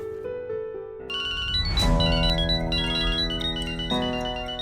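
A phone ringtone plays loudly as a steady melodic electronic tune, sustained tones repeating without pause, close by and with no talking.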